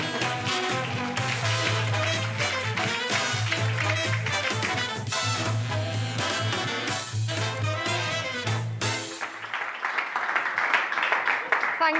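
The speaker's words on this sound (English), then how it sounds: "Can we have a large round of applause for Alex Depledge?" Audience at a talk event clapping over loud walk-on music with a heavy beat; the music cuts out near the end, leaving scattered applause that carries on alone.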